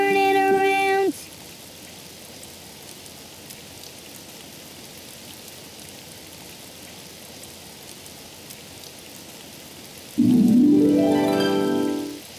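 Steady cartoon rain hisses softly and evenly throughout, bracketed by short musical tones at the start and a rising synthesized flourish near the end.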